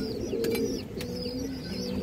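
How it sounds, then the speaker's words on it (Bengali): A Bagha pigeon hen coos in close, low throaty rolls that rise and fall continuously, with a couple of sharp clicks or taps in the middle and no voices. "আর একটা বাঘা মাদি কবুতর"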